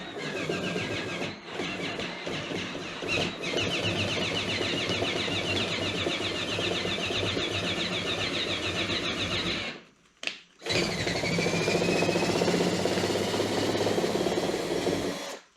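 A power drill spins steadily as it drives into a hole in a DIY 8020 aluminium solar roof rack on a Ford Transit AWD van; the loud continuous whir runs for about ten seconds, breaks briefly, then resumes.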